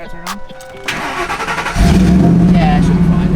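A truck with a cam swap, with recent battery trouble, cranks briefly and then catches, settling into a loud, throbbing engine rumble close by while people talk before the start.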